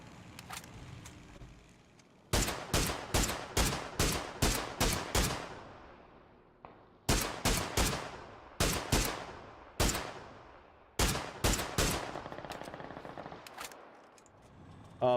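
Bursts of rapid machine gun fire in the video game PUBG, loud and close, arriving in several rhythmic volleys of sharp cracks separated by short pauses, with quieter game ambience between the bursts.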